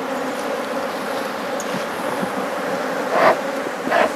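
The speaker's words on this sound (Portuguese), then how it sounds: "Muita abelha na colmeia." Honeybees swarming around an open hive during a nest inspection, a dense steady buzz that fills the whole span at close range, with a couple of brief louder swells near the end and no talk.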